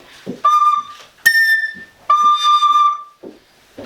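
A few sustained high recorder notes, including a high A, from the piece "Csárdás", clear and piercing, played close with short breaths between them.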